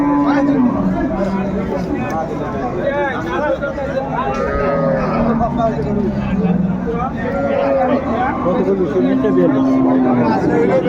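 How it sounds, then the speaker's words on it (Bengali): A Sahiwal cow with calf lowing now and then amid a busy, noisy cattle market, with people chattering and a murmur of voices throughout. "আমরা দেখছিলাম সামনে একটা চমৎকার সাইওয়াল গাভী বাছুর"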